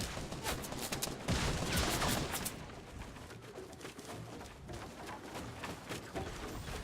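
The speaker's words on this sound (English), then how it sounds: "He's trying to get me to peek up and so he can shoot me with the sniper." Gunfire in the video game Fortnite, including sniper shots, comes as quick sharp cracks and bursts, denser at first and then sparser, over a steady hiss.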